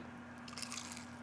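A single close, crisp crunch of teeth biting into Jamaican-style fried chicken cooked outdoors, brief and quiet over a low background hum.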